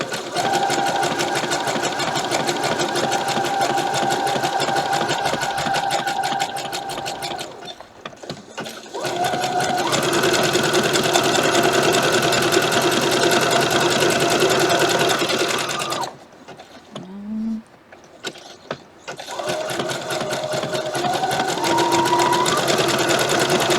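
Sewing machine running steady rapid stitching runs while back stitching vintage Sunbonnet Sue quilt blocks, close and loud, with two short pauses between bursts of needle chatter.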